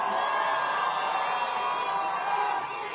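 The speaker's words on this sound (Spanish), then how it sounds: "¡Que se escuche fuerte el aplauso!" Loud, dense crowd applause fills a closing campaign rally in Iztapalapa, a steady roar of many hands clapping close by for the full three seconds without a break.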